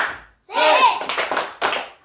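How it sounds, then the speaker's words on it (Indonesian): A classroom of pupils doing a rhythmic spirit-clapping chant, bursts of claps mixed with voices chanting together, loud and close, stopping and starting in short groups. "Tepuk semangat."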